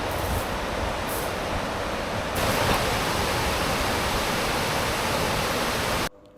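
River water flowing beside Togetsukyo Bridge in Kyoto, a steady, loud broadband rush that holds level for about six seconds before cutting off abruptly.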